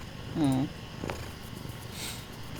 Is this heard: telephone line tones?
no